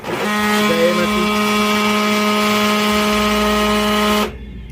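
A faulty main motor with a worn gear runs up close with a harsh, buzzing mechanical whine for about four seconds, then cuts off abruptly, leaving near silence.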